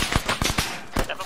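Rapid gunfire from the military shooter Arma 3, a handful of sharp bursts over about a second, close and fairly loud, with some speech energy mixed in.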